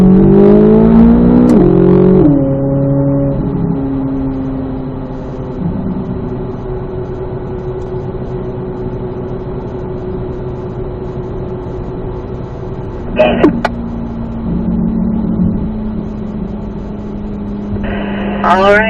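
A Corvette Z06 slows on the Ron Fellows East race track for its cool-down lap, its engine note steady and falling, with brief rises in revs. Someone talks over it.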